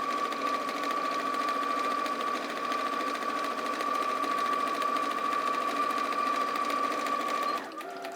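A sewing machine hums in one steady, continuous run for several seconds while sewing a back stitch, stopping abruptly near the end.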